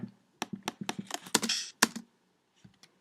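Quick bursts of clicky key presses, several in a row then a few spaced taps, close and fairly crisp with short pauses between.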